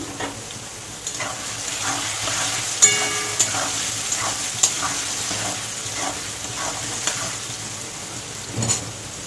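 Potatoes fry in oil with salt and turmeric, giving a continuous crackling sizzle like light rain, with occasional louder knocks and scrapes from a utensil against the pan.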